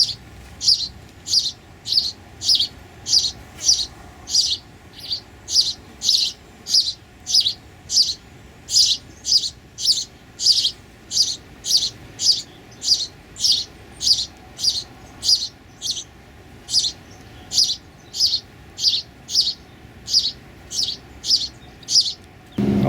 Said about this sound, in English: was watching a male house finch picking at the new forming leaves of this honey locust